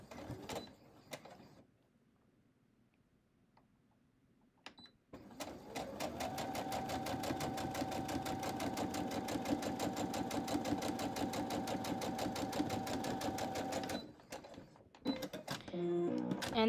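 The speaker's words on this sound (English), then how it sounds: "I'm just going to take this straight to the machine and start sewing" Sewing machine stitching a quilt block seam at a 1/4 inch allowance, starting after a quiet pause and running in a fast, steady mechanical rattle for about eight seconds before stopping, with light handling noises around it.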